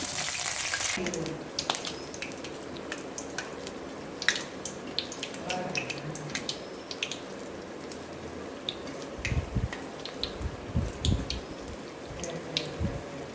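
Urad dal vadai deep-frying in hot oil for crispy medhu vadai, a steady sizzle with scattered crackling pops and occasional louder bubbling bursts, close and continuous throughout.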